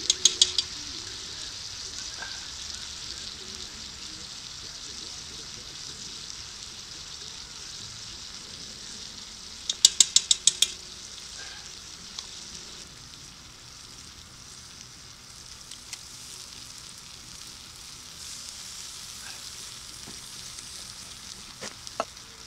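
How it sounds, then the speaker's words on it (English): Tomato paste, tomato juice and diced tomatoes simmer with meatballs in a pot over a campfire outdoors, a faint steady sizzle and bubbling with a few brief metallic clinks of utensils. "I'm gonna add the tomato paste and tomato juice now, and the tomatoes, diced tomatoes."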